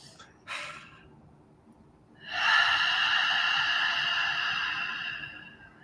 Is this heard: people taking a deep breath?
yes